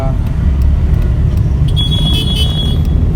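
A Tata Nano's engine drones low and steady as the car pulls away in first gear, a constant close rumble with faint higher whines and tones over it.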